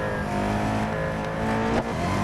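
Koenigsegg Agera RS engine in Real Racing 3, held at a steady high drone with layered harmonics as the throttle is modulated, briefly dipping near the end before resuming, loud and close with no talk.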